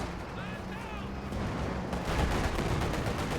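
Gunfire and artillery from the Company of Heroes strategy game: dense, continuous rumbling shots and bursts that grow louder in the second half, with a voice commentating over them.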